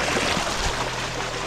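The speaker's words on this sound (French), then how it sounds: "Petite cascade, on a posé nos sacs là." A small waterfall in the Amazon rainforest, a continuous rushing splash of falling water, close and fairly loud, with no talk.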